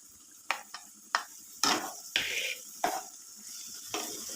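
Cabbage and beans stir-fried in a pan as filling for vegetable samosas, with repeated scraping stirs over a steady sizzle, close and fairly loud, with no voices.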